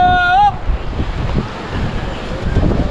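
Sea waves and wind rush and surge in irregular swells, with a brief tonal whine at the start and a blustery, close roar throughout.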